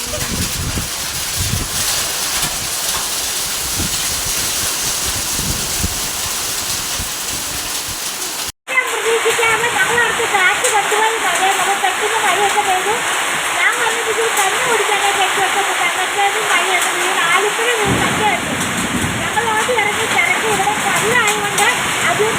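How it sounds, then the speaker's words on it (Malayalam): Heavy rain mixed with hail pours in a dense, steady roar, with a sharp cut partway through and a faint voice in the background. "ഇവിടെ മൊത്തം ആലിപ്പഴം മഴയാണ്"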